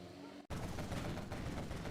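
Dense, continuous rapid gunfire from a quad unit in Command & Conquer Generals Zero Hour kicks in abruptly after a brief quieter moment and keeps going loud and unbroken.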